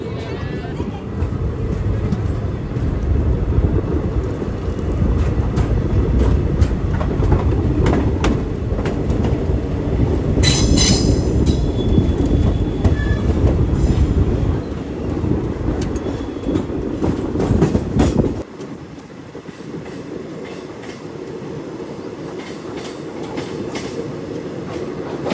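An express train rolls past on an Indian railway line, a loud, continuous rumble with rattling clatter that drops off abruptly, leaving quieter background noise.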